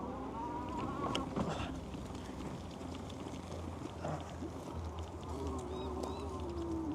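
A small bike motor runs at full throttle throughout, a steady buzzing drone with a wavering pitch, heard from some distance amid outdoor background noise.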